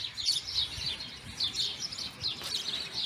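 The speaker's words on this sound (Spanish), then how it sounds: "Y vemos las aves volando, cantando." Birds flying over gardens by the Tule tree in Oaxaca chirp in repeated short bursts of high, bright tweets, moderately close, with a soft ambient hum underneath.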